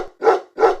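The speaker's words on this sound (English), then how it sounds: "Look at the dog." A farm dog barks twice in quick succession, each bark short, loud and close, with a brief gap between them and no other sounds.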